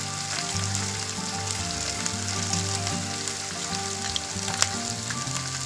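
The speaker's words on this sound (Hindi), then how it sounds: "इसमें हम ये कैप्सिकम को डाल देंगे, इसको फ्राई करेंगे।" Capsicum for chicken chilli fries in hot oil, giving a continuous close, crackling sizzle with a steady hiss and a few small pops throughout, with no voices.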